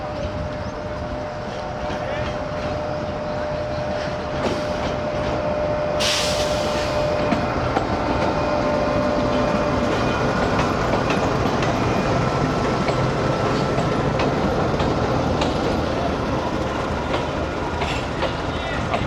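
The Karachi Express, led by locomotive GU 49006, rolls through with a continuous loud rumble and scattered wheel clatter and clicks that last throughout, along with a brief high squeal.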